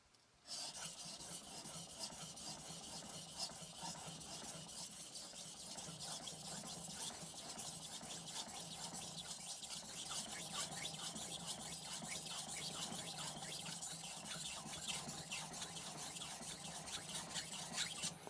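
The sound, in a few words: knife sharpening on 1000 grit whetstone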